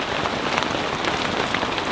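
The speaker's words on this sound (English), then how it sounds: "it is pouring" Heavy rain pours onto a truck camp during a thunderstorm, a dense, loud, steady patter of drops drumming on the surface with no pause and no voices.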